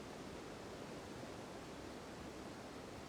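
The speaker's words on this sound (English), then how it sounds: "Another fantastic waterfall." A waterfall in Guild Wars 2 on Shing Jea Island gives a steady, dense rush of falling water that holds at an even level throughout, with no talking over it.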